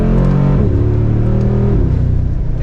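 A Mercedes-AMG G63, a heavy SUV weighing almost 6,000 pounds, pulls hard from second gear, its loud engine note rising with a steady harmonic drone and a brief dip at the upshift, up close with no talking.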